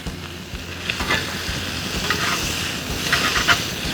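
Bacon sizzles in a hot pan outdoors by an applewood smoker, a steady crackling fry with occasional louder pops and stirring scrapes, close and continuous.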